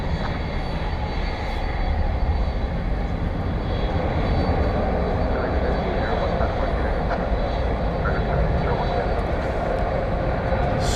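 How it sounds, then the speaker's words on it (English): A UPS Boeing 767 bound for Louisville moves toward takeoff at DFW Airport with a steady, broad engine rumble that holds level throughout, while a voice talks over it. "Flight 767, which is a 767 taking off for Louisville"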